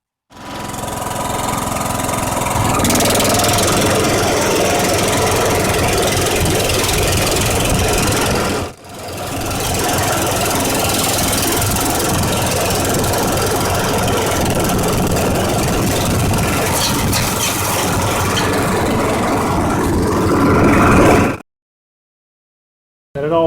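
Kohler engine on a Cub Cadet mower, with a repaired cracked block, runs steadily at a warm idle with a loud, even drone, dipping briefly about a third of the way in before ending abruptly.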